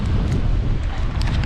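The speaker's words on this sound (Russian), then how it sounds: "ветер дует, неудобно очень" Strong wind roars across a microphone on the Crimean coast during a storm, a dense, continuous low rumble with gusty buffeting throughout.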